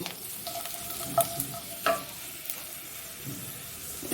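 Chili goes into hot oil with popped mustard seeds for mango pickle, bringing a continuous close sizzle and fry broken by a few sharp clinks and scrapes of stirring, with no talking.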